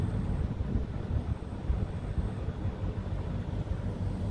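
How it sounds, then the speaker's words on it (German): Wind blows in the open air over Mahmutlar in Alanya, Turkey, a steady low rumble buffeting the microphone throughout with no talk. "ein bisschen Wind weht"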